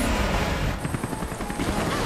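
A helicopter in Resident Evil 6 drones steadily with a thick, constant roar. A faster rhythmic chop sets in partway through and carries on to the end, with talk over it.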